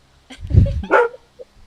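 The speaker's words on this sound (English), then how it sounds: "That's my dog." A pet dog barks indoors during an online music listening party, giving a couple of loud, close barks followed by a faint yip.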